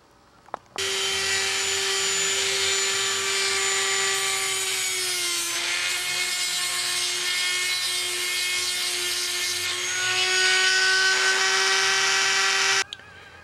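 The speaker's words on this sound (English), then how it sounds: "Just take the Dremel tool and just take a little bit of material out of there." A Dremel rotary tool grinds material out around a blind nut in a model aircraft part, a steady high whine running continuously for about twelve seconds with a brief dip in pitch midway as it loads up.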